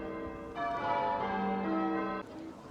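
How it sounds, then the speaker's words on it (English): Church bells in Yeovil, England ring out together after a wedding in a rich, sustained peal, swelling clearly for a couple of seconds before cutting off. "the bells are ringing, and it's quite nice to listen to them"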